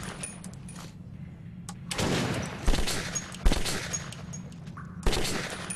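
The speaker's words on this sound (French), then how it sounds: "C'est sur moi qu'on a tiré." Gunfire in the shooter Metro 2033, bursts of rapid shots starting after a quiet opening, with a few louder sharp bangs standing out and a final burst near the end over low background rumble.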